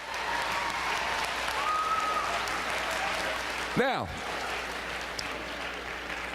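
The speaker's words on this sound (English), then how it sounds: "Give yourself a round of applause." A school assembly crowd applauds steadily throughout, the clapping broad and sustained, with a brief voice cutting in near the middle.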